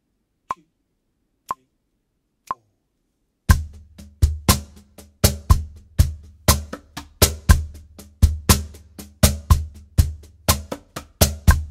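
Cajon played at a level-four groove with added side notes: three sparse clicks, then a steady pattern of deep bass thumps and sharp slaps with quick ghost notes between them, close and clear, with no voices.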